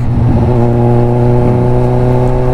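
Steady droning engine hum of vehicles on a busy road leading toward Subic and Clark, a close, loud, even tone with harmonic whine and no talk.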